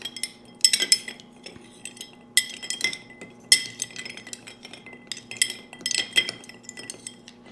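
A spoon stirs an Old Fashioned cocktail in a glass, with ice clinking and chinking in quick, irregular bursts close by, quiet between strokes and without any voices.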